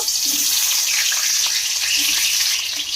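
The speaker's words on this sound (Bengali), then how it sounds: "এই আলুগুলোকে আমি তেলের মধ্যে দিয়ে দেব।" Potato pieces fry steadily in hot oil, a continuous dense sizzle held at an even loudness throughout with no speech.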